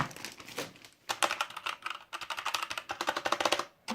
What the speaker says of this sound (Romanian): Avem aici tastatura, gălăgioasă pentru că na, este mecanică.